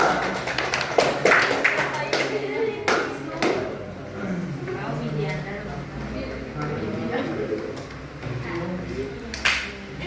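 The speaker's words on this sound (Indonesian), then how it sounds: "tepuk tangan untuk kita" A microteaching class session where students clap for themselves, with scattered hand claps in the first seconds and a few more later, mixed with voices and room chatter at moderate loudness.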